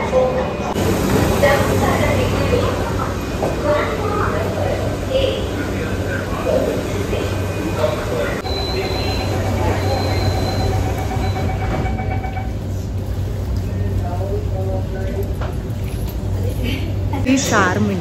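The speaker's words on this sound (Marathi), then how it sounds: "बघा ट्रेन." A metro train pulls into a station platform with a loud, continuous rumble and rolling hiss that eases as it slows, while a person talks over it.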